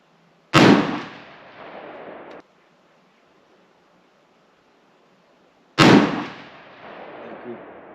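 Two sharp rifle shots fired at a target at an outdoor range, several seconds apart, each a loud close crack followed by a rolling echo that fades out.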